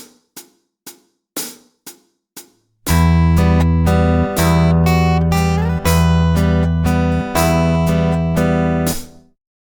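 Fingerstyle Spanish guitar playing the verse of Bartolomé Calatayud's Vals: a few short plucked notes, then a fuller plucked waltz line with ringing bass notes and repeated chords, close and clear, with no talking.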